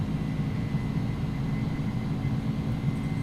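Engines of a FedEx Airbus A300 cargo airliner in X-Plane 11, held at takeoff power on an Oakland runway: a steady, loud, broad jet roar with a low rumble throughout, no voices.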